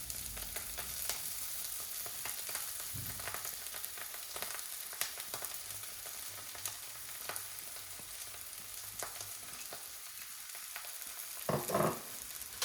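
Flattened rice (poha) is tipped into a pan of roasted spices for Gujarati-style potato poha and stirred, giving a soft, steady sizzle with scattered scraping and stirring clicks, fairly quiet and with no talking.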